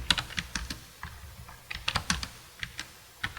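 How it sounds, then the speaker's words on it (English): Typing on a computer keyboard, close and clear: irregular bursts of sharp key clicks with short pauses between words, no voices. "So I am typing"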